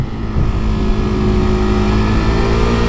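A 2019 Kawasaki Z125 motorcycle engine pulls hard on the throttle, a loud, steady close-up drone with rising revs and no talking.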